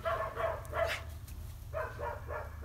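Dogs bark in a couple of clusters of rapid, fairly close barks, separated by a short pause, over a low steady hum.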